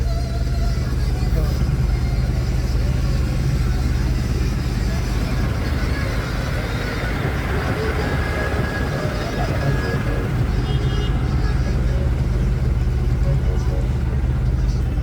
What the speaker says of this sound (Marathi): आणि खूप ट्रॅफिक जाम आहे बघा